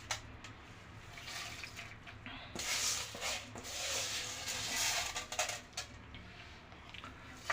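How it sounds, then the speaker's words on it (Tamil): Water poured into a cooking pot while making a village-style green gram curry (pachai payaru kulambu), a close, broad splashing rush that swells and fades over several seconds. "தண்ணி ஊற்றணும்"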